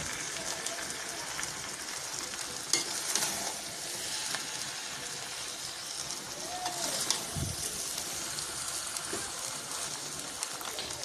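Cooked rice, cooled an hour beforehand and tossed with green chilies, mixed slowly in a pan, giving a steady faint sizzle and soft hiss with a few light scrapes and taps throughout.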